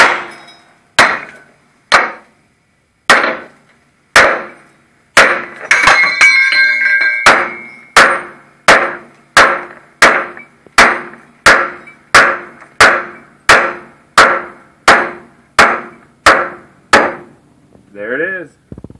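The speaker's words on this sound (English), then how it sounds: "Take your hammer and beat this side in," A hammer drives a leaf spring shackle bushing into place on a 1998 Chevy S10, with about twenty loud, sharp metallic strikes at a steady rhythm. A short ringing stretch breaks the pattern partway through.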